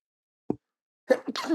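A single short sneeze-like burst, then a pause before a voice starts talking nearby.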